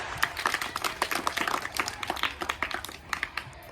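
Children clap in quick, uneven bursts during a Marathi party game, the sharp claps near and fairly quiet, with faint chatter in the background.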